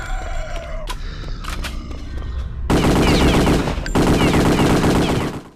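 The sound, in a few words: weapon gunfire in video game Return to Castle Wolfenstein VR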